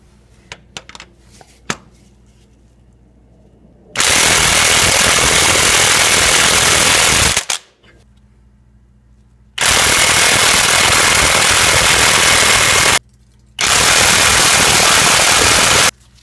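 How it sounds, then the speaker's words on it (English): An impact wrench hammers at the crankshaft bolt of a Toyota RAV4 during timing belt work: three long, loud, continuous rattling bursts with short pauses between, preceded by a few clanks. "So I went and got an impact wrench."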